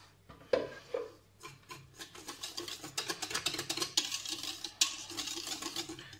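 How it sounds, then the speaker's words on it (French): Brussels waffle batter being stirred in a bowl while flour is added, giving repeated scraping, rasping strokes that grow quicker and louder, close up with no talking. "Et là on continue à mélanger tout en farinant."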